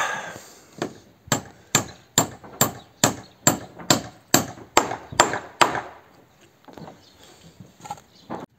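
About a dozen sharp hammer blows strike nails into wooden boards in a steady rhythm, close and loud, followed by quieter scattered knocks.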